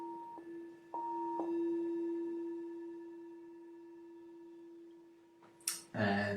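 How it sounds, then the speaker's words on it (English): A singing bowl struck a few times, each strike ringing out as a clear sustained hum that slowly fades over several seconds before a rustle and clatter at the end. "Got this here, it's my lovely singing bowl."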